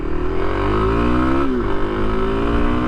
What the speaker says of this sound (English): let's do a little acceleration and braking here